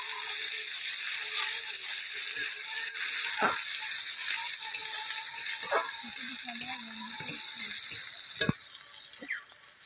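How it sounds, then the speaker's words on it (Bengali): Chopped onion sizzles loudly in hot oil, frying until reddish for a country chicken curry, a dense continuous hiss broken by spatula scrapes and stirring clatter near the end, without speech. "পেঁয়াজটা লাল করে ভেজে নেবো"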